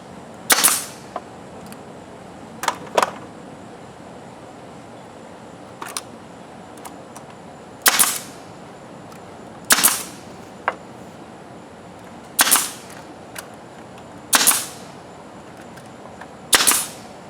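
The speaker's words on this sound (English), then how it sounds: "I'm going to shoot a staple in each corner." Staple gun firing staples into the corners of a wooden chicken and quail pen frame built from a trampoline: eight sharp, loud snaps spaced irregularly, some closer together, over quiet background.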